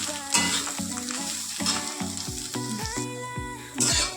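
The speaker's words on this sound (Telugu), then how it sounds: "ఇలా మధ్య మధ్యలో కలుపుతూ వేయించుకుంటూ ఉండాలి." Bitter gourd fries in a pan with a steady sizzle, while repeated stirring scrapes and knocks mark a fairly regular rhythm throughout.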